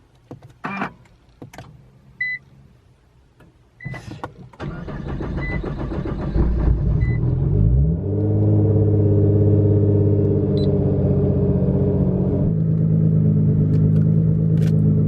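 A few clicks and thumps, then a Nissan GT-R sports car engine cranks and fires, revving up before settling into a deep, steady rumbling idle.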